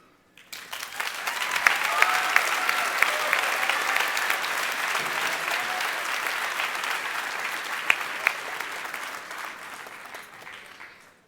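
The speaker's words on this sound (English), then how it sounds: "Dr. Pelosius, another round of applause, please." Applause from a large audience at an evening commencement ceremony, rising quickly into a long, even roar of clapping in a big hall, then slowly fading away.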